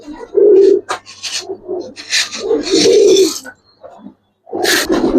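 Homing pigeon cooing up close, several soft throaty coos with short pauses, alongside rustling.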